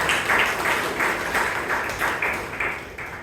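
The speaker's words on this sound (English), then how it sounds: "Big round of applause to the speaker as well as to the evaluator." Steady applause from an audience at a Toastmasters club meeting in Bangalore, a dense wash of clapping with rhythmic swells, continuing without pause for a few seconds.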